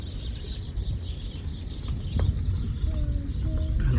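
Birds chirp and call outdoors in Kandahar, a few faint thin calls rising over a steady low background hum.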